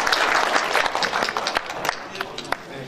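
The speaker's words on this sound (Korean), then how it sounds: "박수 부탁드리겠습니다." A crowd at a Korean press association event claps, brisk scattered applause close by, fading slightly over a few seconds with some voices mixed in.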